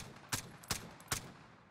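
Three evenly spaced single shots from an AK-74u rifle with a 10.3 barrel in a video game, each a sharp, crisp crack with a short tail, fairly faint and clear of talk.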